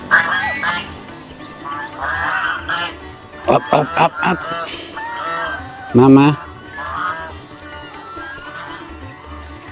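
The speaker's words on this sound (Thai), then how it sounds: "เบิ่งห่าน5 ตัวนี่เห็นมันทุกมื้ออันนี้เป็นห่านของวัดเนี่ย" Five temple geese honk loudly nearby in a series of harsh, nasal calls, with one strong burst of honking in the middle, heard amid outdoor background noise and a voice speaking.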